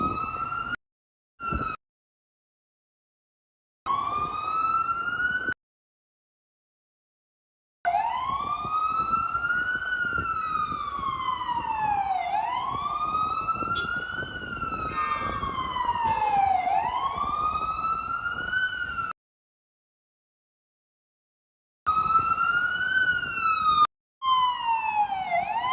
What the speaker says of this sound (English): famous sirens that we all grow to love here in New York City